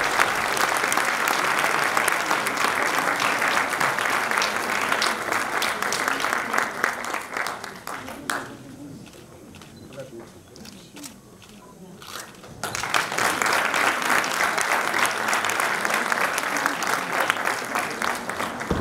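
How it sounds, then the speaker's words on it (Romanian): Sustained applause from a large crowd at a high school centenary celebration, dipping briefly to a quieter patch in the middle before swelling back to full clapping. "E așa, merită toate aplauzele noastre."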